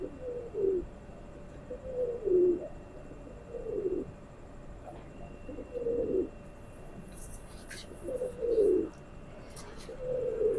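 Male pigeon cooing in repeated low, throaty phrases about every two seconds, close and clear over a quiet background with no talking.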